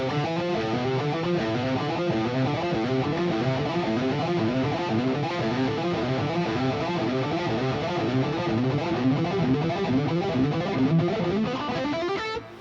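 Distorted electric guitar playing a fast lick that mixes picked notes with legato hammer-ons, a continuous rapid run of notes lasting over twelve seconds at steady loudness with no talking.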